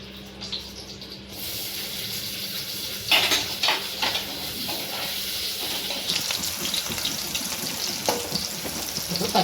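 Onions and green chillies frying in hot oil for a cucumber curry, a steady loud sizzle with a few sharper spatters and scrapes partway through, with no talk.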